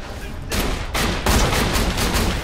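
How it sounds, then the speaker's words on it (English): Shotgun blasts in the video game Borderlands 2 fire in rapid bursts, loud and close, roughly three heavy volleys with dense crackling noise between them and no talking. "Use my shotgun."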